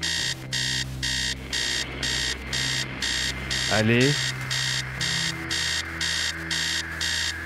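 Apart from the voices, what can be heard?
alarm clock ringing in the video game Stories Untold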